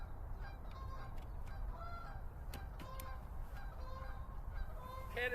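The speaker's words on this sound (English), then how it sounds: "Here comes the geese." Canada geese honk repeatedly in a loose, overlapping series outdoors in a wet spring snow setting, moderately close calls over a steady low rumble of background noise.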